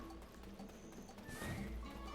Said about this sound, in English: There's Horse